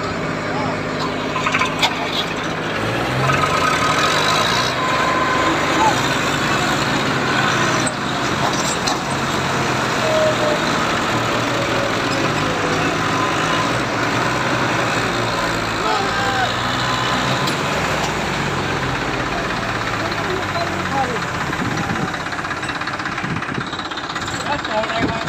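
A loud, steady diesel tractor engine roars continuously, straining under heavy load while pulling a trolley of manure stuck in the ground, with rumbling mechanical noise filling the whole stretch.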